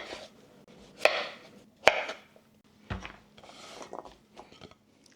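A knife cuts cubed potatoes on a board for potato salad, a handful of irregular close chops and scraping strokes with quiet gaps between them and no talk.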